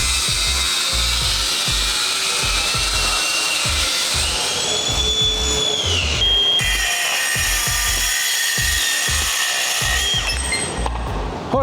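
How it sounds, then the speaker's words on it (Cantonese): An angle grinder cuts through metal pipe with a loud, continuous high-pitched whine that dips in pitch under load partway through, steady and close throughout. "我哋睇下磨機切喉通嘅效果會係點先"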